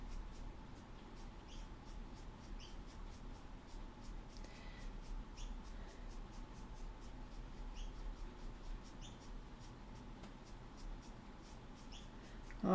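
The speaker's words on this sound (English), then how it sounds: "And put pastel pencil on top now." Pastel pencil scratching across Pastelbord while drawing a hibiscus, a faint, steady scratchy texture with quiet repeated light strokes and no talk.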